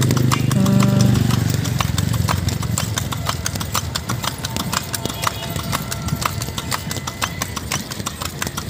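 Hooves of a horse pulling a kalesa carriage in Cebu clop in a steady, brisk rhythm over pavement. A low engine rumble sits underneath, heaviest at the start, with street noise around.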